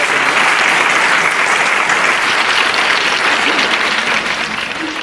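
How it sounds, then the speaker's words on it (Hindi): A studio audience on a quiz show applauds loudly, with steady dense clapping throughout that eases slightly at the end. "एक बार जोरदार तालियां"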